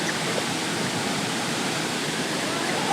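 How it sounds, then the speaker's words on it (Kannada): A waterfall near Ujire roars in a steady, dense broadband rush that holds evenly from start to finish, close by and loud, with no voices or other sounds rising above it. "ಪ್ರಕೃತಿಯ ವಿಸ್ಮಯದಂತಿರುವಂತಹ ಒಂದು ಜಲಪಾತ"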